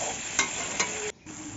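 Meat curry is being stirred uncovered in a frying pan as it cooks down, a steady close sizzle broken by two scraping spoon strokes and a brief dip in the frying noise near the end.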